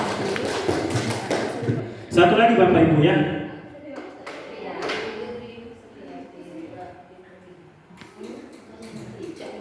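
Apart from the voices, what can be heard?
group doing a rhythmic circle clap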